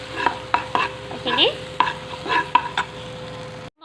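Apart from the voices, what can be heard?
spice paste frying in a pan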